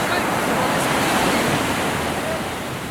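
Ocean waves roll steadily onto a beach as a continuous, loud wash of surf with some wind noise, and no voices.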